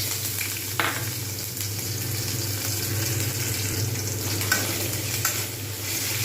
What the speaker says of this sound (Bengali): পেঁয়াজ খুব সুন্দরভাবে ভাজা হয়ে গেছে এবার আমি এর মধ্যে দিয়ে দেবো আদা রসুন পেস্ট